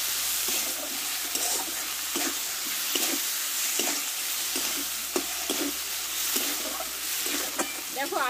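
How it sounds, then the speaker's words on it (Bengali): A spice paste of ginger, onion and tomato with salt and turmeric fries in a pan, giving a steady soft sizzle with repeated short scraping strokes as it is stirred, fairly close and moderately loud. "অল্প একটু হলুদ দেব, দিয়ে ভালো করে মশলাটা কষে নেব।"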